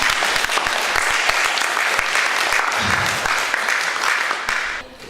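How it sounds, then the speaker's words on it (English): Audience members at a meeting clap together in a dense, lively burst of applause that stays loud and even before thinning out near the end. "Now you can clap."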